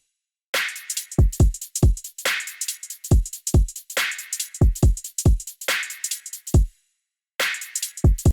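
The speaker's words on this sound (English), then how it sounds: "For the actual drop drums, while we're on the drums," Punchy electronic drum groove with deep booming kicks and sharp, bright snare hits in a steady, driving pattern, loud and close, with no voices.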